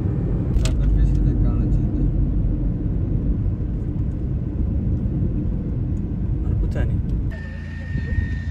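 A four-wheel-drive vehicle rumbles along a mountain road up to Wakan village, a steady low engine and road drone with a few sharp knocks and clatters, and people talking over it.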